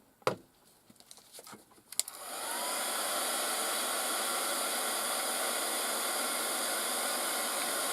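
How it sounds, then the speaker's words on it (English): A heat dryer blows steadily onto wet ink on a handmade flip-flop Christmas tree card, starting after a couple of sharp handling knocks and then holding a loud, even, close-up whoosh to the end. "let me hit that with the dryer right quick"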